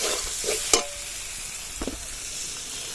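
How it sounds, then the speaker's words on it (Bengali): Whisked homemade sour yogurt and ground coriander and cumin cooking in a pan, a soft steady sizzle with a couple of sharp spoon clatters, no voices. "এবার দিয়ে দেবো ভালো করে ফেটে রাখা টক দই"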